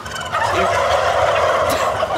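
A dubbed animated scene of turkeys fills with loud, rapid gobbling calls, dense and continuous throughout, close and without speech.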